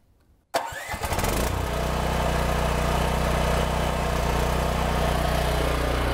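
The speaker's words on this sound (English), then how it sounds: "Here I'm gonna start the generator." A welder generator compressor unit cranks briefly after a quiet moment, catches, and settles into a loud, steady mechanical idle close by.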